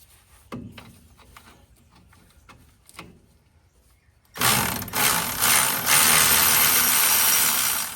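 Faint scattered clicks and clanks of tools on an old leaf spring, then a loud, sustained burst of grinding, rasping noise as a bolt is worked loose, close and continuous to the end.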